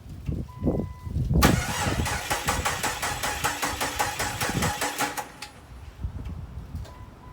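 A Jeep XJ engine cranks on a cold day after a crank position sensor replacement, a steady rapid starter chug lasting about four seconds, loud and close, with no catch into a running idle.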